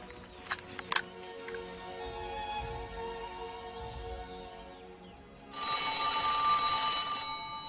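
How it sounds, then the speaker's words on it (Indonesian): An old telephone rings out in a tense wartime setting in Jogja, a steady electronic trill starting partway through after quieter room noise and a few knocks, sounding moderately loud and close. "Sambungan telepon sudah pulih."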